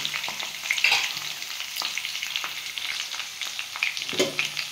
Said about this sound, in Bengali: দেখুন আমার আলুটা ভাজা হয়ে গেছে